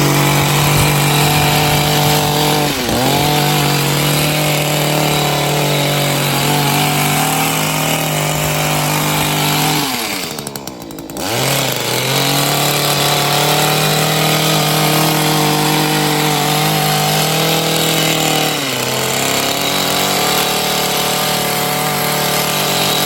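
A power hedge trimmer cuts through a hedge, its motor buzzing loudly and continuously close by, with brief dips in pitch as the blades bite into branches.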